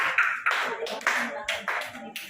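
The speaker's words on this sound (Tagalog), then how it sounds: "Palakpakan natin sila ay." A small group claps in short, uneven bursts, fairly close, with voices mixed in among the applause.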